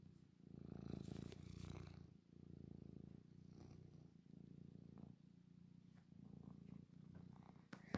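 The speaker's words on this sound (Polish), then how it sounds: "mruczy kotek, mruczy chłopak" A cat purrs steadily and close up while being brushed, a continuous low rumble with rhythmic breathing pulses across the whole stretch, no talk over it.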